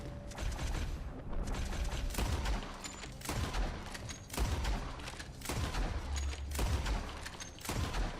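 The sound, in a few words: Gatling gun firing in video game Red Dead Redemption 2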